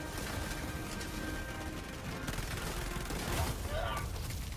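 A deployed sentry turret in Helldivers 2 fires without pause, and the rapid gunfire forms a dense, steady roar under a loud, noisy battle that lasts the whole stretch.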